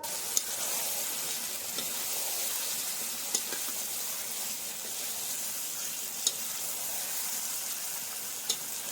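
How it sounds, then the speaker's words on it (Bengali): Meat fries in a pan with spice paste, a soft continuous sizzle under occasional utensil scrapes and a few sharp clinks against the pan, close but fairly quiet. "এখন ভালো মতো নাড়িয়ে চাড়িয়ে নিতে হবে আর অনেকক্ষণ ধরে কষাতে হবে"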